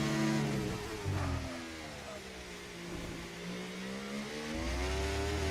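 Formula 1 car engine from the F1 24 racing game at the Circuit of the Americas, a steady high-pitched whine with shifting harmonics as the car climbs a crest and eases off, close and continuous, with deeper rumble at the start and end.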